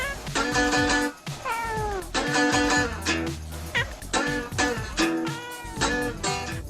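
Stray cats meowing and caterwauling, a continuous series of loud, drawn-out, wavering yowls close by, one call after another with brief breaks.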